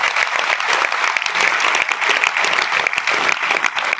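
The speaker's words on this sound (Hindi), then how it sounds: "तो एक बार मोशन स्टाफ के लिए जोरदार तालियां बजा दीजिए" A large audience at a motivational orientation event claps loudly and continuously, a dense close wash of applause lasting the whole moment.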